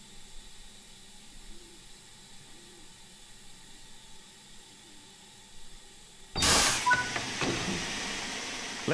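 An LMS Fowler 4F steam locomotive in Train Sim World 3 idles with a faint low hum, then bursts into a loud, sustained hiss of escaping steam that continues to the end.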